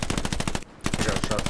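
Rapid machine-gun fire rattles out in a World War II shooter game, a dense run of loud, close bursts that stops for a brief gap and then resumes.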